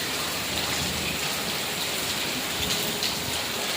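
Steady rain falling during a thunderstorm on an evening, a dense unbroken hiss close by with no clear thunderclap standing out.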